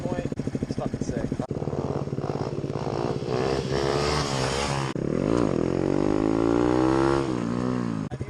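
A motorcycle engine idles with a steady, loud throb close by, then revs and swells in pitch in the second half. A voice talks over it throughout.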